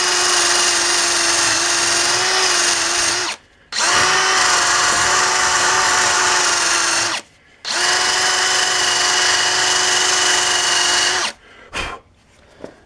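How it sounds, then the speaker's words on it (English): A power drill whirs steadily in three long bursts with short stops between, its high buzzing whine mixed with the scratchy grind of a wire brush cleaning dirt off a Polaris Sportsman tie rod part. "We've got a brush on our wire brush on our drill here."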